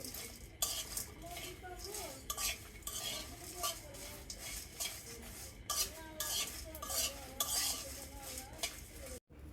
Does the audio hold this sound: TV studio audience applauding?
no